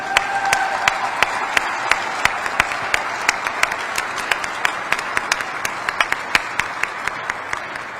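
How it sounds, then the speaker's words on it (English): Audience applause at an annual military test wing awards ceremony, steady sustained clapping from a full room with a few sharp, close individual claps standing out over the even wash throughout. "them another round of applause."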